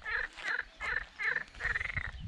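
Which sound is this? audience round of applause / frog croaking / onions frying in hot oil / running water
frog croaking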